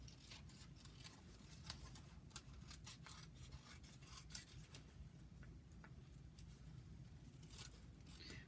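Steady rasping and scraping of designer paper being trimmed for card making, with sharp intermittent snips and rustles throughout, close and fairly even in level.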